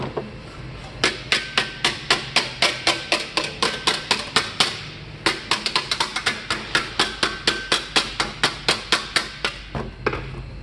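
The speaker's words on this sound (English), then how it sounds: "Bend it back and start hammering again." Steady, evenly spaced hammer blows shape an aluminum shoulder pauldron for a suit of armor, close and loud, in two long runs separated by a brief pause.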